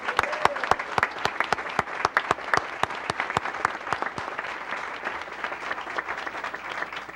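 Audience at a county school board meeting applauding a middle school choir after its performance, a sustained patter of clapping with many distinct sharp claps, moderately loud and steady throughout.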